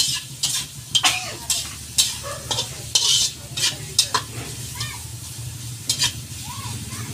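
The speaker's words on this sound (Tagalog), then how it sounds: "Kita nyo naman, pagigisa pa lang." Ingredients for beef papaitan sautéing in a pan with little oil, a spatula scraping and stirring in repeated sharp strokes over a steady sizzle, close and fairly loud, no talking.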